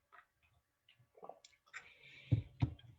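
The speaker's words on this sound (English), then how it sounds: "Let me take a drink of water." Close gulps of water being drunk, two distinct swallows following some faint mouth clicks and a soft breath, quiet and alone without talking.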